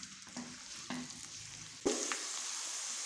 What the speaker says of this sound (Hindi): प्याज को लाइट गोल्डन कलर में फ्राई करेंगे।